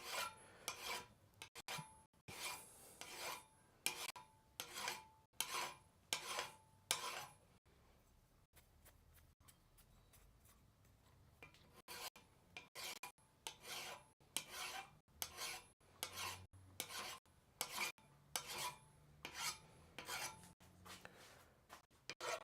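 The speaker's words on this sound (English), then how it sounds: "I'm just gonna work that with the normal file way" Hand filing of a steel cross peen hammer in a blacksmith shop: bursts of dry rasping strokes in quick rhythmic runs, with a quieter pause in the middle before the strokes resume, close and alone.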